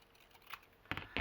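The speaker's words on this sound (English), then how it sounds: "I'm gonna have to use my bigger scissors to go straight." Large scissors snipping paper while trimming pieces for a handmade journal, two crisp close cuts near the end after a quiet stretch.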